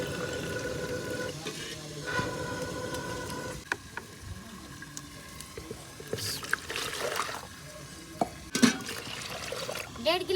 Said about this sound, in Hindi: तो अब लगाएंगे हम इसको पानी।